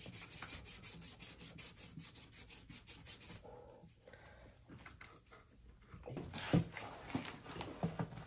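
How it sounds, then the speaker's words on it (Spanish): Sandpaper rubbed back and forth on a household water pipe, a steady run of close, raspy strokes with a short pause midway before the scraping resumes. "vamos a lijar bien."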